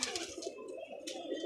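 A red-eyed pigeon coos softly and steadily at close range, with low murmuring calls and no voices over them.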